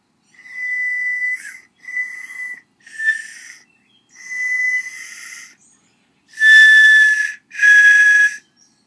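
A handmade ceramic ocarina with a more refined shape sounds a series of pure, breathy whistled notes, close and loud, in six short phrases with gaps, the last two strongest.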